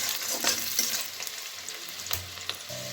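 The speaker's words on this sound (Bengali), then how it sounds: "সবার প্রথমে রসুন কুচি দিয়ে দিলাম, আদাটাকে দিয়ে দিলাম, কাঁচা লঙ্কা কুচানো দিয়ে দিলাম। এবারে খুব ভালো করে ভেজে নিচ্ছি।" Chopped garlic, ginger and green chilli fry in hot oil in a pan, a soft steady sizzle punctuated by scraping stirs and light clinks of the spatula.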